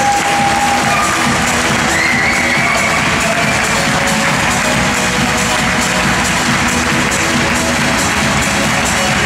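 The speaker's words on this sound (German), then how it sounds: "Einen großen Applaus für das Pony Show Team" Loud arena crowd at a horse show cheers, whoops and claps for a pony show team, a constant roaring wash of voices with applause mixed in and children's shouts audible.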